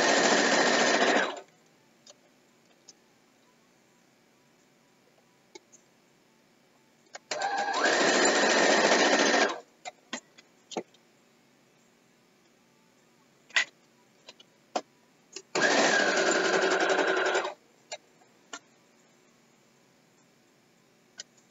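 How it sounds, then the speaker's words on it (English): A sewing machine stitches quilt pieces in three separate bursts of steady, close whirring, each lasting about two seconds. Quiet gaps between the bursts hold faint clicks and handling noises. "Sew these first because I'm going to be sewing them onto the quilt first."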